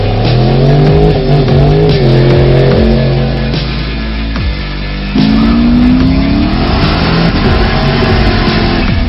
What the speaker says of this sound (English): we're gonna test out my RC car on this road and see how it does.